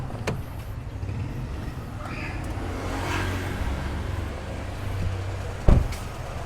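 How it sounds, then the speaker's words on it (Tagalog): A car engine idles steadily as a low, continuous rumble, with a sharp knock near the end, after being started following a jump start with booster cables. "paandarin lang natin yung makina."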